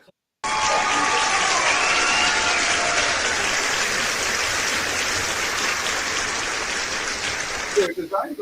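An audience at a live show bursts into sustained, dense applause that starts abruptly after a brief silence, holds at a steady, loud level for several seconds and then thins into scattered claps.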